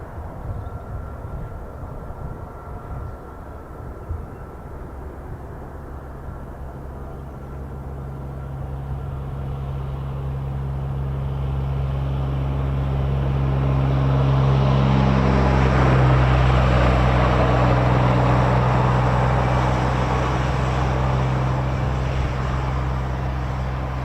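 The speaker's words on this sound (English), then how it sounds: "I can hear the KC-135 nicely." A Boeing KC-135 military jet flies past in the distance, a low steady rumble swelling gradually over about twenty seconds and peaking before slowly easing off.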